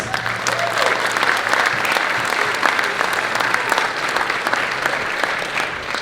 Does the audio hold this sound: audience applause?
yes